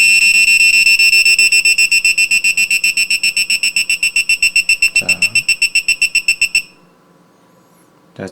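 A piezo buzzer linked to an ultrasonic distance sensor gives a steady tone that breaks into a run of rapid, evenly spaced beeps as an object nears, like a parking sensor, then stops abruptly and leaves near silence.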